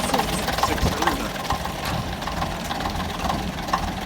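The six-cylinder engine of an AEC Regal IV bus idles with a steady low rumble and a faint rhythmic knock, heard close up under light background noise.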